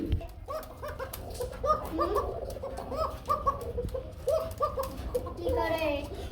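A white Arabian pigeon cooing in repeated rolling calls at a pigeon fair, set against steady crowd chatter and background noise.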